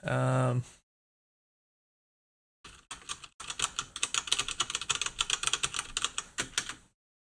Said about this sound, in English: Messing with the keyboard.